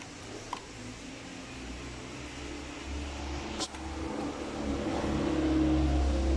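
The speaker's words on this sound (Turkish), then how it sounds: "aracımızı çalıştıralım arkadaşlar" A car engine idles after engine cleaner has been poured into its oil, giving a steady low rumble with a mechanical whir that grows slightly louder and fuller toward the end.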